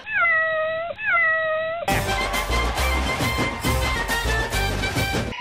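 A cat meow sound effect: two drawn-out, clear meows, loud and close, then cut off by loud music and crowd noise.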